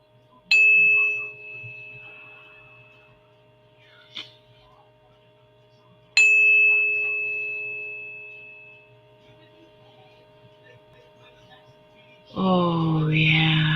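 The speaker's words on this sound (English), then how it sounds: "I've got the 432 tuning fork, which I was told is the cosmic heart. 432 hertz." A 432 Hz tuning fork struck twice, each strike a clear sustained tone that slowly fades over several seconds, with a steady hum underneath and a brief rustle at the end.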